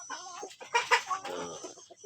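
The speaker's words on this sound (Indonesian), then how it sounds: "Inilah ayam-ayam kampung saya" Free-range village chickens cluck and murmur inside their coop, several birds close by with overlapping, uneven calls.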